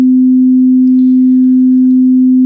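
A steady 256 hertz pure test tone, one unbroken loud sine pitch held evenly throughout with nothing else around it.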